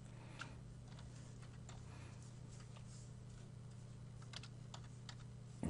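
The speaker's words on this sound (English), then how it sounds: "I'm going to type tab" Computer keyboard typing, a few scattered faint key clicks over a steady low room hum, with no talking.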